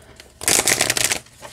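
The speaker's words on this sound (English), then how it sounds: "I want to try shuffling it side by side." An oracle card deck shuffled side by side, one close, bright papery riffle lasting under a second, with no talking.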